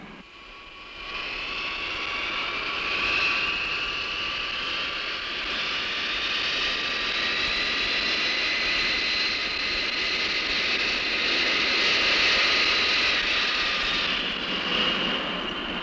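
Aircraft at a large airport, a continuous loud whining jet engine roar with a steady high-pitched drone that holds throughout.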